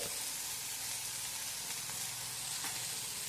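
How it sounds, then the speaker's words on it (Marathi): Soft tomato sautéed with a pinch of turmeric for kande pohe, a dense, steady close-up sizzle throughout. "हळद टाकून अगदी ती एक मिनिटभर परतवून घ्यायची आहे"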